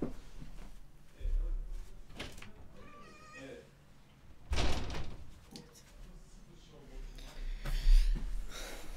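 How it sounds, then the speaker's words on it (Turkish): A cat at a door as it is being opened indoors, with brief thuds and rustles of the door and a short meow-like call amid a person talking nearby. "Yine kediye kapı açacağım geliyorum."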